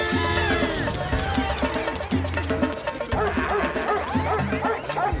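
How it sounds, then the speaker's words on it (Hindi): A cartoon dog barks loudly and repeatedly in quick bursts, close up, over busy music and background crowd noise. "अरे मेरे पे क्यों भौंक रहे हो?"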